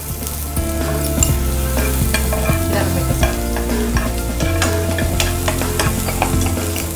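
Paneer makhanwala frying in a pan, with a steady loud sizzle and the scrape of a spoon stirring throughout, heard close up with no talking.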